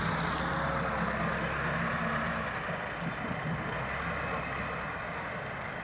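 A 2019-model 385 tractor engine runs steadily at a low, rumbling idle, a continuous heavy drone that holds even throughout with no voices.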